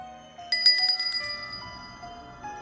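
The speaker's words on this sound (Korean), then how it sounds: "현관문에 달린 종은" A bell hanging on a front door tinkles as a horror radio drama sound effect, a bright chime struck a few times close up, then ringing out in a soft, lingering shimmer without any voices.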